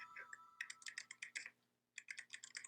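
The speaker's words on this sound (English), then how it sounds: "I can hear you typing" Rapid clicking of a computer keyboard being typed on, in quick irregular bursts with a short pause midway, fairly faint and close with no talking over it.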